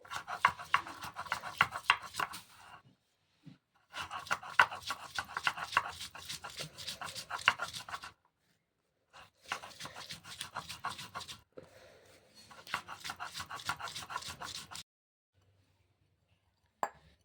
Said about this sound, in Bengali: ভালোভাবে আমলকিগুলো সব বেটে নেব